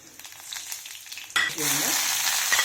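Fenugreek, mustard seeds, pepper and cumin hit hot oil for a buttermilk kuzhambu, setting off a sudden loud sizzle that settles into steady, close crackling after a quieter start.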